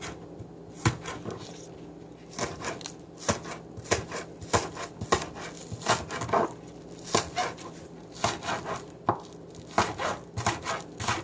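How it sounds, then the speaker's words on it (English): Green onion is chopped on a cutting board with a knife in quick irregular bursts of sharp, close taps, with short pauses between runs and no talk. "So, I'm going to chop this up real quick here."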